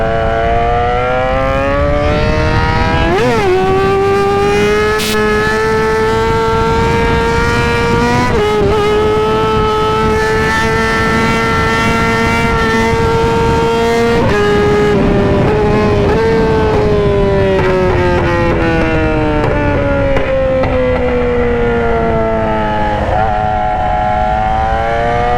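A sport motorcycle laps a racetrack at a trackday while its rider warms the tires, the engine a loud, close, continuous whine rising and falling in pitch through gear changes and throttle shifts.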